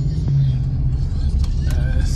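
A pickup truck towing a trailer cruises on a freeway at dusk, a heavy steady road rumble and engine drone heard from inside the cab, with a voice briefly over it.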